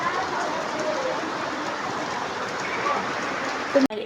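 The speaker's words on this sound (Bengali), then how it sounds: "বৃষ্টি চলে আসছে আমরাও আসছি আর বৃষ্টিটা আসছে" Rain falling steadily outdoors at a family home in the countryside, a continuous even hiss of drops that runs unbroken and ends with a brief knock.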